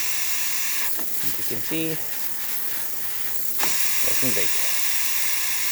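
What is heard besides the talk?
steam wand hissing on Breville Oracle espresso machine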